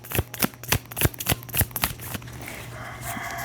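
Playing cards riffle in a run of sharp, rapid flicks, about eight distinct bursts close to the mic, trailing into a softer rustle, over a faint steady hum.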